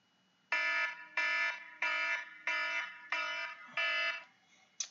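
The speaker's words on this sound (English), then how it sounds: "timer's going off" A timer alarm blares six evenly spaced harsh electronic beeps, each about half a second long, loud and close in a quiet room, with a seventh just starting at the end.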